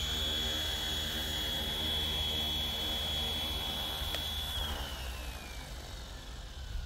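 A Flywing FW450 V2.8 RC helicopter with 6G stabilization attempts a takeoff, its rotor and motor making a steady high whine that drops in pitch as it spools down, fairly faint and without talk.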